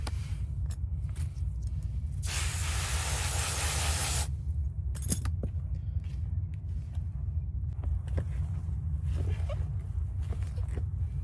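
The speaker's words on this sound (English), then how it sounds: "So we've got our bucket, we've got a hose. Just gonna get her damp, mix it around a little bit." A garden hose sprays water into a bucket of seed starting mix in one short hissing burst of about two seconds, with quieter handling and mixing clatter before and after over a low background rumble.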